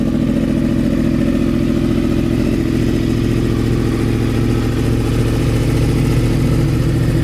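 A Yamaha R1 sport motorcycle idles steadily while warming up, a loud, close, continuous engine rumble with a fast, even firing pulse throughout and no talking.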